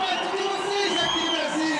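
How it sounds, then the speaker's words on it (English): Crowd noise at a Street League Skateboarding contest in Brasilia, a dense, steady roar of cheering and chatter filling the whole stretch, loud and continuous with no pauses. "The crowd is going wild."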